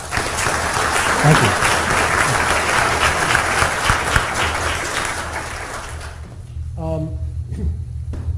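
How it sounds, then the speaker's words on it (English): Lecture audience at a cyber talk gives a full round of applause, dense clapping that holds steady then fades out, followed by a voice beginning to speak. "let's give a round of applause"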